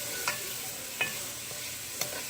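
Homemade chili cooks down in a pot, a steady low simmering hiss broken by three soft, evenly spaced stirring scrapes, close and with no talking.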